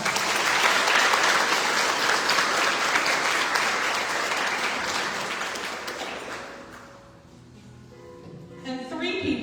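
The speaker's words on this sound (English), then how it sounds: "Let's give them a big round of applause." A crowd at a county fair royalty contest breaks into loud, sustained applause that fills the room, then thins out and fades toward the end as a few scattered claps and voices remain.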